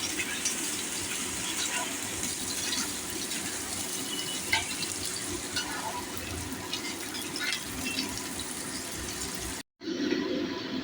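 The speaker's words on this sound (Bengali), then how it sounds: "দিয়ে আমি একটু পেঁয়াজটাকে একটু ভেজে নিচ্ছি।" Chopped onion fries with chili and garlic in a pan for Bengali potato chochori, giving a steady, dense sizzle that runs throughout and cuts out briefly near the end.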